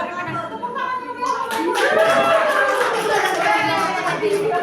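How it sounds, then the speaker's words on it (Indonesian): An audience of women at a teachers' workshop session claps together, a dense, loud burst of applause building after a second and continuing steadily, with children's and adults' voices chattering underneath. "Tepuk tangan dulu."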